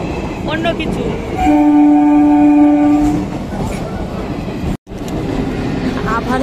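A train rolls past a level crossing with its horn sounding in one long steady blast near the middle, amid a continuous rumble of wheels on rail and brief clicking rhythms near the start and end, loud and close.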